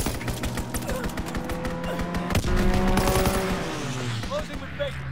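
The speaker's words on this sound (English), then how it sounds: "Enemy strafing run incoming." Gunfire and rapid machine-gun bursts rake across a busy Call of Duty WWII battle as an enemy fighter plane makes a strafing run, loud and continuous with impacts and rumbling engine noise, under clipped game voice callouts.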